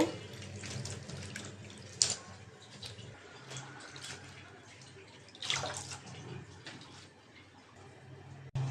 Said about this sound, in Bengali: সবজিগুলো কেটে নিয়েছি এখন ধুয়ে নেব